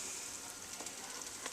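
Butter cooking down in a pan for canning, a quiet steady sizzle and fine bubbling that carries evenly from start to finish, close but faint.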